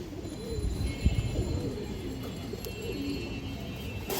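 Black pigeons in a loft give soft, warbling low coos that roll on continuously at close range over a faint background hum, with one small knock early on and no talking.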